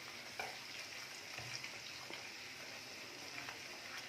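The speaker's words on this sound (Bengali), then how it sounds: "হলুদটা দিয়ে প্রত্যেকটা মশলা দিয়ে একটু নাড়াচাড়া করে নিতে হবে।" Spices such as turmeric and chili powder frying in oil in a pan for Kashmiri-style chicken curry, giving a steady close sizzle with faint scraping stirs throughout and no talk.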